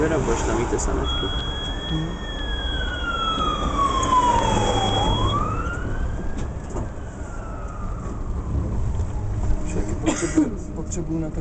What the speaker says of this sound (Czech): budeš tam mít ty sanitky